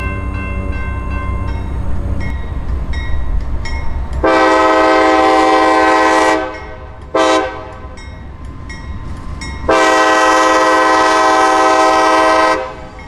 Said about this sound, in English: Leading the train are two modernized AC 4400 CW locomotives